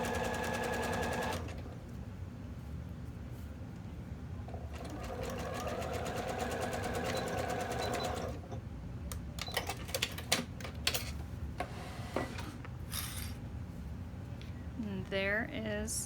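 A sewing machine stitches elastic onto the edge of a fabric bralette, running in rapid rattling bursts of varying length with short pauses between them, close up, while a voice talks over parts of it.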